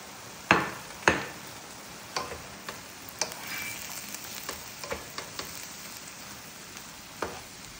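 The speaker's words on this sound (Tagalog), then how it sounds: "هذه الشعرية يا بنات استخدمناها شعرية كودي. تحمسونها لحد ما تاخذ لون بني" Kodi vermicelli toasting dry in a frying pan while being stirred, giving sparse light clicks and scrapes with a couple of sharper taps early on over a faint steady hiss.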